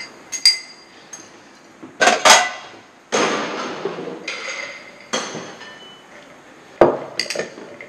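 Ice clinking and knocking against a glass while a rum Old Fashioned is mixed, a series of sharp clinks and rattles in separate bursts at close range, with no talking.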